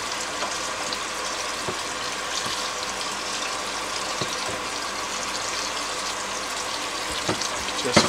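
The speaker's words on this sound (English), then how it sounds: "we're going to rinse it with some cold water." Cold filtered tap water runs in a steady, even hiss over cooked scallion noodles in a strainer, with a few light knocks as they are rinsed.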